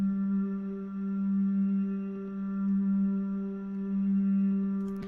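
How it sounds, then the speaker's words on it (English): A sustained, looping hummed-voice pad holds a steady low tone with gentle swells in volume, smooth and continuous throughout. "This pad is also made with my voice."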